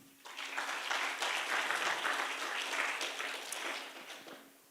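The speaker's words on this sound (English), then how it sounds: "Let's give a big round of applause for all the teams" Audience applause at a hospital hackathon final pitch session, a burst of clapping that swells quickly, holds steady and then tapers off, heard from within a moderately sized room.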